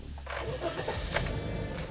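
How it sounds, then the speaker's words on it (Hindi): A Toyota Yaris engine starts up, a brief soft crank settling into a quiet, steady idle hum heard close by. "और अब स्टार्ट करते हैं। उसकी सबसे पहले इंजन की साउंड देखते हैं।"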